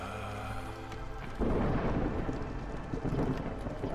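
Rain and rolling thunder in the city-building game Against the Storm, a low rumble and steady rainfall that swells louder about a third of the way in and holds as a dense, continuous downpour.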